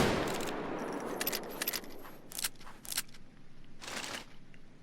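A Taurus Judge shotgun revolver fired in Payday 2: several sharp, separate blasts spaced unevenly over a few seconds, each with a bright crack and short tail, loud and near, no talking.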